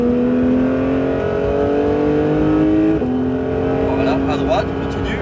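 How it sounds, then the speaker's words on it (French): A Porsche 911 GT3 on a race circuit, its engine droning loud and close in a steady rising tone, with a brief dip as it shifts and picks up again, while an instructor talks over it. "et commence à réaccélérer"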